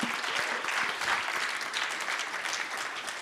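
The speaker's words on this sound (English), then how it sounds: "Please give a big round of applause for the first 9 teams." Audience at a startup demo day giving a sustained round of dense applause, steady and fairly even, with no voices over it.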